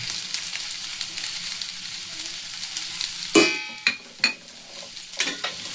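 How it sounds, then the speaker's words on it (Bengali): A vegetable mixture for a children's tiffin is stirred in a pan over steady background sizzle, with a loud scrape midway followed by several sharp spoon knocks and scrapes spaced irregularly, close and clear, no talking. "আবার একটুখানি মিশিয়ে নেব ভালো করে"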